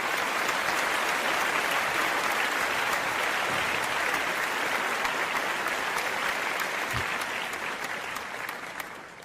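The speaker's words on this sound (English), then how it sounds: "You deserve applause for that." Sustained applause from a crowd, a dense, even wash of clapping that carries steadily at full strength before tapering slightly toward the end.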